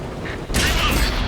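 Shell bouncing off tank armor in World of Tanks, a sudden loud metallic crack and burst midway, after a brief stretch of battle rumble.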